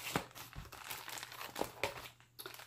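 Ziploc plastic bags holding cross-stitch ornament kits crinkle and rustle in quick, irregular bursts close by, fairly quiet, with no voices.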